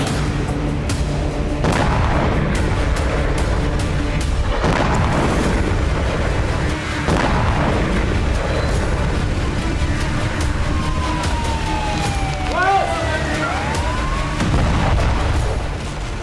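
Guided bombs and missiles striking central Gaza produce loud, dense booms and rumbling blasts one after another. Whistling, siren-like sweeps rise and fall partway through.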